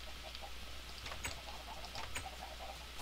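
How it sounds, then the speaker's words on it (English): Chickens cluck in the video game Minecraft, several soft, short clucks scattered irregularly over a faint, steady low hum. "I'm gonna spawn a few chickens and maybe I'll get my first harvest."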